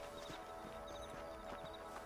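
Steady clip-clop of horse hooves on a ranch in the video game Red Dead Redemption, a quick regular walking rhythm kept faint and low under a constant background bed.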